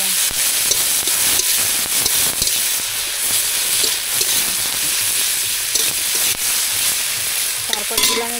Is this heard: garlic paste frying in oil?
yes